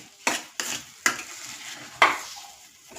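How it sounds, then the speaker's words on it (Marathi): Sweet semolina sheera cooked with cow's ghee is stirred in a pan, giving four or five sharp scraping strokes, each followed by a soft sizzle that fades, with no voices present. "आता परत एकदा मस्तपैकी परतून घेऊया"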